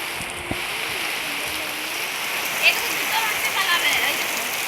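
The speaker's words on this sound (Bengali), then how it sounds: "হঠাৎ হঠাৎ করে বৃষ্টি চলে কি হবে" Rain falls in a steady close hiss while a person speaks briefly over it, with a few louder splashes later on.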